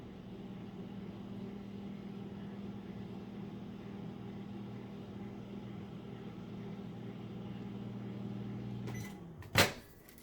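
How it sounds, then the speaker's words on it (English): A microwave oven hums steadily for several seconds, then stops with a beep and a clunk of its door opening. "now I'm gonna microwave it one more time just for a little bit"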